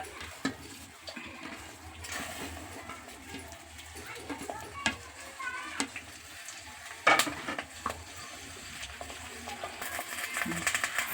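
Hibiscus and henna leaves with aloe vera frying in oil over a low flame make a soft, faint sizzle, broken by occasional stirring clicks and utensil taps, with quiet talk in the background.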